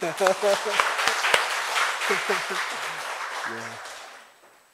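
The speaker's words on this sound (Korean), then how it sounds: "박수 한번 치고" A church congregation at a Sunday worship service claps to welcome visitors from Songdo, Incheon, a steady patter of hands running under several voices talking over it, then fading out near the end.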